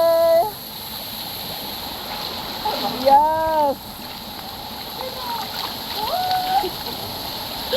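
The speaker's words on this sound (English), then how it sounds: "At the hot spring with the waterfall." Steady rushing, splashing water from a waterfall at a hot spring fills the background while people talk and call out over it.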